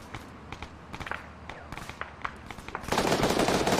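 Gunfire from a large military simulation operation in the video game Arma 3. Scattered distant shots and short bursts lead into a louder, denser stretch of firing toward the end.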